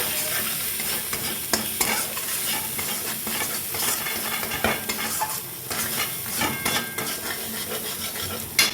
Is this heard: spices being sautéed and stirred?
yes